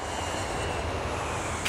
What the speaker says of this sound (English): The plane was taking off.